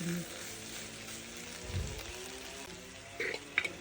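Drumsticks, prawns and grated coconut frying in a pan give a soft steady sizzle, with a few louder stirring scrapes and clinks near the end.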